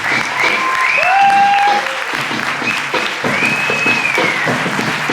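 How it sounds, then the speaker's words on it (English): An audience at a poetry performance breaks into loud, sustained applause, dense clapping close up with whoops and cheers rising over it. "Round of applause."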